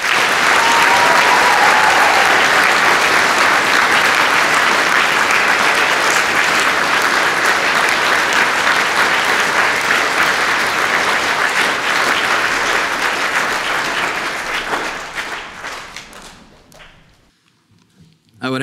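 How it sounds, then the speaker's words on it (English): Audience at the Faith Builders Christian School 2024 graduation ceremony applauds the graduating class: loud, dense, sustained clapping that holds steady for about fifteen seconds, then fades out to near silence. "Join me in applauding this class for their accomplishment, the class of 2024."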